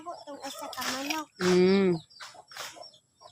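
A chicken clucks and squawks nearby in a few short bursts, one drawn-out loud call in the middle, with brief pauses between.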